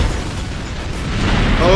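A rumbling, broadband explosion from an online multiplayer match of the strategy game Yuri's Revenge on the Super Crates map, sustained and swelling slightly louder toward the end, with a player's voice mixed in.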